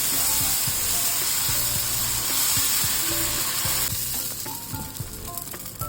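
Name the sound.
spinach dosa batter sizzling on a hot tava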